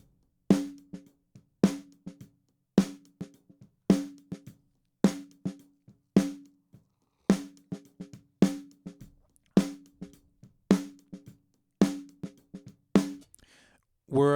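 A snare drum through a noise gate repeats a steady pattern of sharp backbeat hits, each followed by softer ghost strokes that come through clearly between the main hits.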